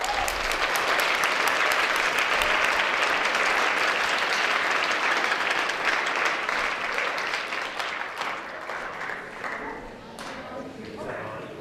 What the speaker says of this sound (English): I want you to applaud her and yourselves for being a wonderful audience today.